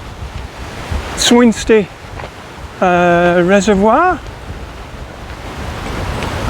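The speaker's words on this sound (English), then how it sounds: "It's seriously windy now." Gusty wind buffets the microphone with a constant roaring rumble while someone speaks a few words over it.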